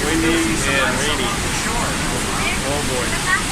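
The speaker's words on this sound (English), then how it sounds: "It's just pouring rain here like every day, all day." Steady heavy rain with gusting wind roars up close near Niagara, a dense continuous wash of noise with no pauses.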